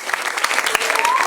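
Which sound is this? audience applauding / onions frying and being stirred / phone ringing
audience applauding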